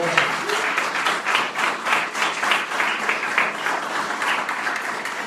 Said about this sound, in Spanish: Denle un aplauso a ese Dios grande y poderoso.